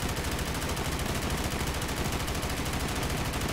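AK fire in Call of Duty Black Ops 3 Zombies on a custom Walking Dead forest barn map, a loud, unbroken stream of rapid automatic shots throughout.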